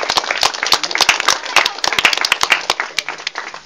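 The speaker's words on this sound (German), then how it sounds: "Teilt euch den Applaus, alle 4." Audience clapping at a German Advent calendar event, with sharp, uneven claps from a small group, steady and fairly loud for a few seconds.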